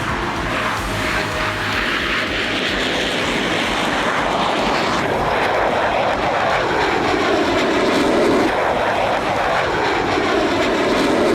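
F-16 fighter jet flying: a loud, continuous roaring engine wash that swells and shifts in pitch as the aircraft passes, steady throughout with no voices.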